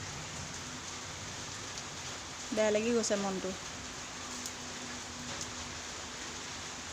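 Steady rain falling outdoors on a garden, a constant soft hiss of drops throughout, with someone speaking briefly in the middle over it.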